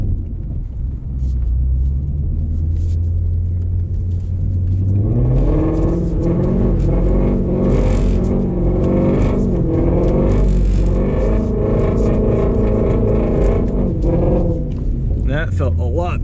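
A Shelby GT350 engine pulls hard in second gear on a wet road, its loud rising roar building steadily from about five seconds on, heard from inside the car with a driver talking over it.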